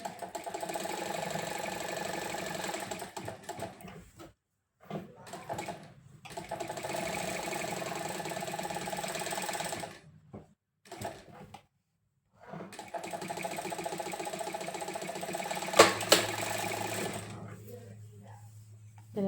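A sewing machine stitches lining fabric together in a series of steady mechanical runs, each lasting a few seconds and separated by short pauses, with a brief clatter near the end.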